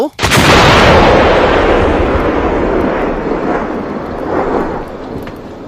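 A powerful blast sealing a cave mouth in hilly country, a sudden loud boom that rolls on in a long, thunderous rumble and echo across the hills for several seconds, gradually fading.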